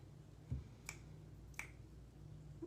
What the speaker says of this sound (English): you can snap your fingers